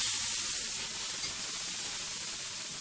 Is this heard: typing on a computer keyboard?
no